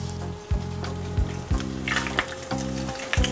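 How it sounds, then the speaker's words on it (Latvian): Herring fillets fry over high heat in hot olive oil in a pan, a steady close sizzle with sharp crackles and spits as pieces are laid in, no voices. "Reņģis cep uz lielas uguns karstā eļļā,"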